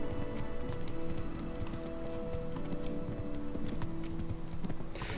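Horse hooves clopping in a steady rhythmic gait while riding in the video game Kingdom Come: Deliverance, close and continuous over a bed of ambient game sound.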